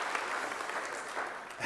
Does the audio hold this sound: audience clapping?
yes